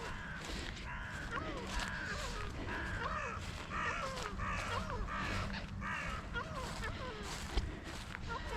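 Several crows caw repeatedly at a winter bird-feeding spot, harsh calls coming in an irregular series over steady background noise, with a person talking nearby.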